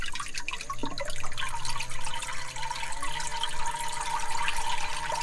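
Bait tank water pump for striper shad, turned down to a trickle: a steady, close splash and drip of running water that continues throughout.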